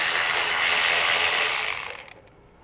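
A 10mm socket ratchet works screws loose on the intake of a Kia K5 GT, giving a steady, close, fast clicking run that stops abruptly after about two seconds with a few faint trailing clicks.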